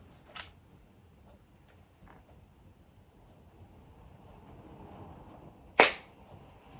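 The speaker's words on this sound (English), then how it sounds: "Very loud, slappy, clappy shutter" A Praktica FX2 film camera fires its loud shutter twice in a quiet room. Each release is a sharp, slappy clap, the second much louder than the first.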